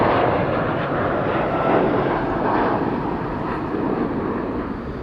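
Departing airliners roar loudly and continuously at Amsterdam Schiphol Airport, a broad steady engine rumble with no break and slight swells in intensity.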